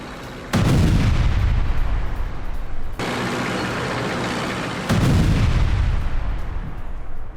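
Artillery fire during a Ukrainian attack on a Russian T-80 tank, two heavy booming blasts a few seconds apart, each followed by a long rumbling decay over a low background roar.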